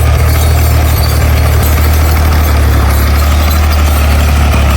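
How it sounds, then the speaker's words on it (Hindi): Tractor engine running in farm fields in a village in Neelum, a loud, steady low idling rumble with constant vibration from start to finish, no voices. "ये देखें खेतों में ट्रैक्टर लगा हुआ है"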